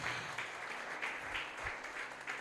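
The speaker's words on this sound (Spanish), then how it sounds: "Siéntate, dale un aplauso a Dios por ese hombre." A church congregation applauds during an evangelistic sermon, a dense wash of steady clapping held at a fairly even level, with a few swells, moderately distant and without speech.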